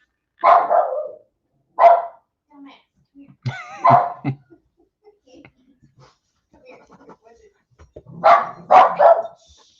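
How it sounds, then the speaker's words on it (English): A dog barks in sharp, scattered bursts with quiet gaps between them, ending in a quick cluster of three barks. "there's a dog outside"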